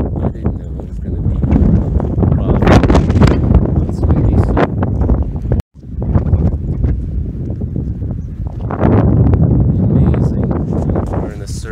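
Strong wind gusting across the Annapurna circuit trek in the Nepal Himalaya, a loud, steady roar of buffeting microphone noise that drops out for an instant midway, then surges back and swells toward the end.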